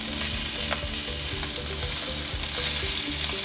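A sous vide chuck roast sears hard in a hot pan, giving a loud, steady sizzle and crackle with low rhythmic thumps of the meat or pan running underneath throughout.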